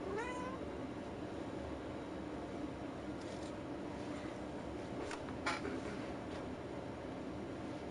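A cat meows once faintly at the start, then gives a few soft, brief cries over a steady hum of background noise, with no voices.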